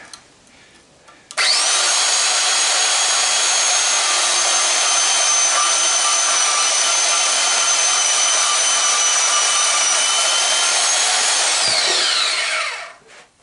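A Porta-Band portable band saw cuts through the copper windings of an electric motor stator. It starts abruptly, then holds a loud, steady whine and rasp for about ten seconds before spinning down.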